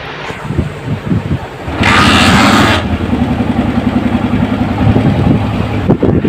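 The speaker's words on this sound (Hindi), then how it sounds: "बाइक मैंने स्टार्ट कर दी है, माशाल्लाह बहुत प्यारा साउंड है" A Honda CG 125 motorcycle engine, modified, rumbles to life with a brief rising roar, then settles into a steady, close idle with light wind buffeting.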